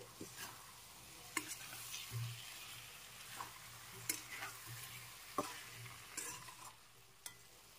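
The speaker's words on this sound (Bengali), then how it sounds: "সবকিছু একসাথে দিয়ে মশলার সাথে মিশিয়ে কিছুক্ষণ নেড়ে চেড়ে কষিয়ে নিতে হবে" Potatoes and pointed gourd stir-fry with spices in a pan for a Bengali prawn curry, a soft steady sizzle broken by intermittent scraping clicks of a spatula, quiet and close.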